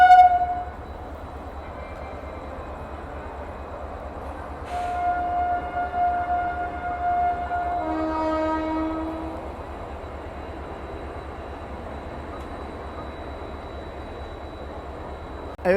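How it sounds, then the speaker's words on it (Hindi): A Vande Bharat Express passes at an Indian railway crossing with a low rumble throughout, then sounds a long, loud multi-tone horn midway before the rumble settles again; nobody speaks. "वंदे भारत क्रॉसिंग वंदे भारत।"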